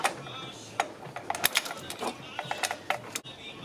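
A hand ratchet tightens the rear thermostat bolt on a V6 Honda Accord, giving irregular bursts of sharp, close clicks with short pauses between strokes.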